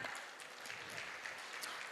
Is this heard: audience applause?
yes